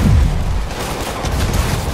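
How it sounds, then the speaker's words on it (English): An RPG blast at point-blank range in Marvel's Spider-Man on PS4, a loud, heavy boom with a deep rumbling body that fills the whole stretch without fading. "Why do they shoot RPGs at point blank range?"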